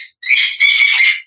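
Pet bird squawking loudly and close, two harsh bursts of raspy high-pitched calls with a short gap between them.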